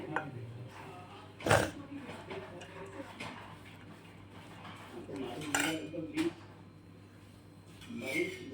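A spoon mixes onion bhajiya batter in a bowl, giving scattered clinks and scrapes with a few sharper knocks against the dish. Someone talks throughout.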